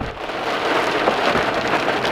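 Heavy rain pours down in a dense, constant hiss, drumming steadily on nearby surfaces with no voices.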